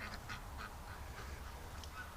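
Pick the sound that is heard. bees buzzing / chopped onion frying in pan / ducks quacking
ducks quacking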